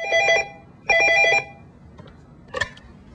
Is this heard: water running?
no